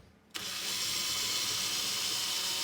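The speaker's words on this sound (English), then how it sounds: "drill my pilot hole first." A power drill fitted with a small bit bores a pilot hole during a microwave installation, starting abruptly after a brief quiet moment and then whining at a steady, close, continuous pitch.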